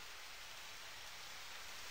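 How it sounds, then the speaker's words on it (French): Steady hiss of rain in the video game Harvest Moon: Back to Nature, an even, soft wash of falling water with no distinct drops and no voices. "ça fait plusieurs jours qu'il pleut"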